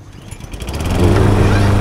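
A small outboard boat motor starts up in the Stranded Deep game, sputtering briefly and then settling into a loud, steady buzzing drone within two seconds.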